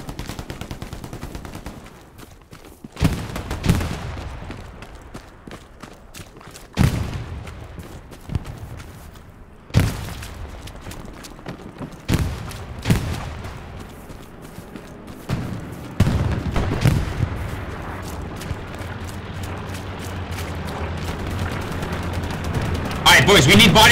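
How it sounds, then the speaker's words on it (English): Gunfire in the World War II shooter Hell Let Loose comes as repeated loud cracks and bursts around a tank, some close and punchy and others in rapid runs, with voices talking between the shots. "Okay, we got people shooting at our tank here."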